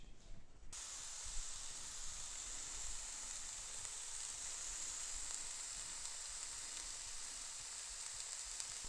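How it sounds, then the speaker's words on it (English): A trout fillet cooks gently in melted butter in a pan, giving a soft, even, continuous sizzle and hiss that starts abruptly and holds steady at low volume, with no talking. "So we're gonna leave this like this to gently cook and cook the fish."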